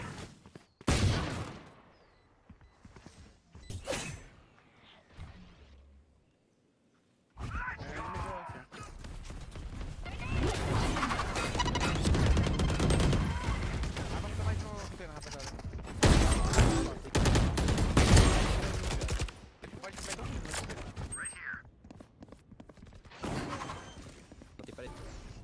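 Sniper rifle fire in Valorant cracks out in a few sharp, loud shots scattered across a busy game soundscape, with a silent gap early on and dense combat noise and clatter afterward.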